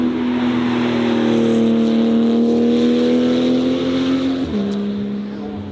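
A McLaren Sabre supercar drives past at the Goodwood Festival of Speed with a loud, sustained engine tone held close by. The pitch drops sharply as the car passes, and the sound then fades.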